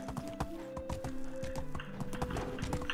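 Horse hooves clop in a quick, steady rhythm while riding in the medieval village game Medieval Dynasty, a close train of crisp hoof strikes over a faint tonal background, with no talk.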